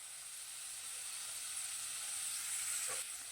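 Potatoes fry with salt and turmeric in a hot pan, giving a steady, close sizzling hiss that runs unbroken throughout, with a faint scrape of stirring near the end.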